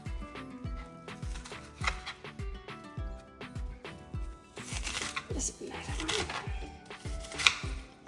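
A knife chops ingredients for black bean burgers on a cutting board, with steady evenly spaced thuds that grow denser and more clattery toward the end, close up, and a person speaks at times.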